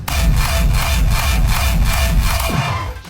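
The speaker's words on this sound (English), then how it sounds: "Color kicks, also known as rainbow kicks," Electronic-music color kicks, also called rainbow kicks, hit in a fast, regular rhythm. Each loud, punchy hit carries a pitched tone, and the pattern ends with a downward-sweeping tail.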